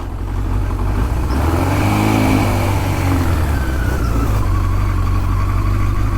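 A 1977 Suzuki GS550 motorcycle, just started and still a little cold, running as it is ridden, with a loud, steady engine drone and a rising then falling rev, heard close with no talk.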